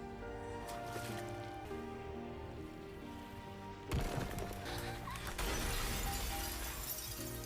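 Ice shattering in an anime scene, a loud crashing burst of breaking and scattering fragments over a music score, with quiet sound beforehand.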